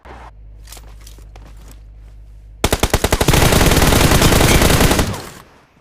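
Automatic rifle fire in the mobile battle royale game PUBG Mobile, a rapid close burst of shots that swells into sustained loud gunfire for a couple of seconds, preceded by quieter in-game footsteps and movement.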